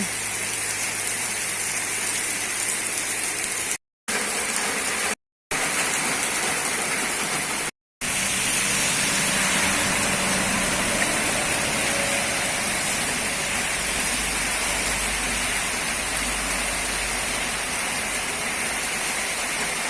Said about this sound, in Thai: เย็นสบายแล้วฝนตกมา